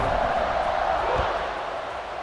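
A football stadium crowd roars at kickoff, a dense, continuous wash of cheering that holds steady and fades slightly toward the end.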